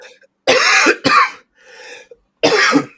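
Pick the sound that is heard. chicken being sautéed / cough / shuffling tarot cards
cough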